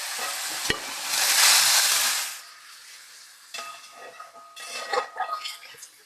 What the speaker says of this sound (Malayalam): ഇനി നമ്മൾ ആ വേവിച്ച് വെച്ചിരിക്കുന്ന ബീഫ് അങ്ങ് ആഡ് ചെയ്ത് കൊടുക്കുക